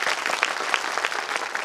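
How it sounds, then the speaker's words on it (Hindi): Audience applause at a school annual day, a dense spread of clapping from parents in the crowd, steady and moderately loud throughout the short stretch. "इसलिए फिर एक बार उनके लिए जोरदार तालियां हो."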